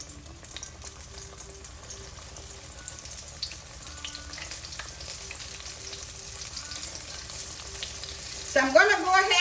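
Floured shrimp deep-fry in oil for Jamaican sweet and sour shrimp, a low, even bubbling hiss that holds throughout before a brief sharper clatter near the end.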